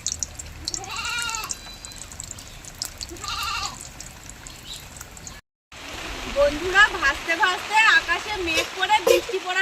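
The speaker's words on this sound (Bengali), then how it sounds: "বৃষ্টি হচ্ছে বন্ধুরা" Rain falls outdoors in a steady, textured patter that begins suddenly partway through, after a quieter stretch where a goat bleats several times nearby.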